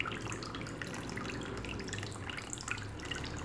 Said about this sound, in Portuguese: Tá vendo o barulhinho da água caindo?